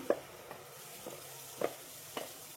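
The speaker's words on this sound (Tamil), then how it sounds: "இப்போ நம்ம அரைச்சி வச்சிருந்தா தக்காளி சேர்த்துடலாம்." Ground tomato paste added to hot oil with chili powder, frying gently for a Tamil tamarind curry with cowpeas, with a low steady sizzle and a few soft stirring scrapes at regular intervals, no talking.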